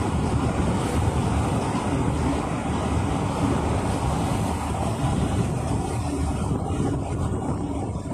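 Sea waves at a beach in Subic, Zambales, heard as a continuous broadband wash of surf mixed with steady wind rumble on the microphone, with no voices.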